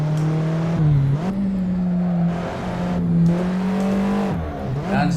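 A race car engine in a racing video game drones steadily, then its pitch drops and jumps as it downshifts through the gears, with tire noise and short engine blips.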